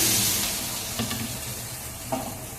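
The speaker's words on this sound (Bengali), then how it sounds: "মশলাটা আলু কষানো হয়ে গেছে, এবার আমি জল দিয়ে দিলাম।" Water poured into a pan of sizzling spiced potatoes, a loud hiss and crackle at first that gradually fades, with a couple of brief stirring clinks.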